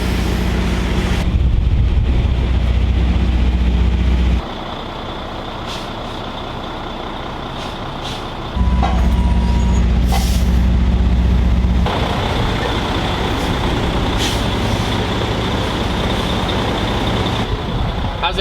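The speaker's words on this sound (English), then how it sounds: "You backed up the trailer successfully again." A motorhome backs up to hook onto a trailer, its heavy engine rumbling loudly with air-brake hisses and intermittent reversing beeps, the drone shifting in level as it maneuvers.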